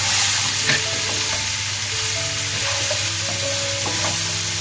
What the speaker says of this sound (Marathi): आता हे आपल्याला इकडे फ्राय करून घ्यायचे आहेत इकडे पॅनमध्ये तेल घालून घेतले